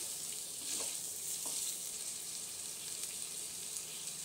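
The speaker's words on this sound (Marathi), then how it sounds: "हे आता आपल्याला थोडंसं असं चांगलं व्यवस्थित मिक्स करून घ्यायचं आहे" Vegetables and drumsticks for South Indian hotel-style sambar sizzle steadily in a pan as they are stirred, with a soft continuous hiss and a couple of faint scraping strokes, no talking.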